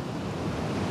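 Ocean waves wash onto the beach at Manzanillo, a steady broadband rush of surf mixed with wind noise on the microphone, continuous and moderately loud for a brief moment with no voices.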